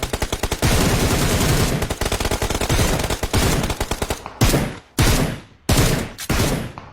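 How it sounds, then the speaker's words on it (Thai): Loud gunfire in the PUBG Mobile battle royale game: long rapid automatic bursts for several seconds, then a few shorter separated bursts with brief gaps between them. "มันยิงกันอยู่"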